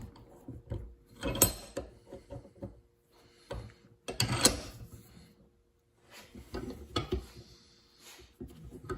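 A socket ratchet turns on the steering of a 1964 MGB under restoration, giving close, intermittent bursts of ratcheting clicks with short pauses between them.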